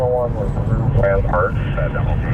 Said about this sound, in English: looks like news choppers and the police helicopters over it